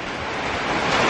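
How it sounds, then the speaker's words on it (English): Powerful gusts of wind from tropical storm Irma roar as a steady, dense broadband rush, loud and continuous throughout with no voices. "there were some really, really powerful gusts of wind"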